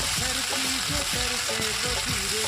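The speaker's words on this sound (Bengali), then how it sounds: "এবার কড়াতে দিলাম সর্ষে তেল, সর্ষে আর শুকনো লঙ্কা আর একটু কারি পাতা" Mustard seeds, dried chilli and curry leaves sizzle in hot mustard oil in a pan, a loud continuous frying hiss with rapid crackling and popping throughout.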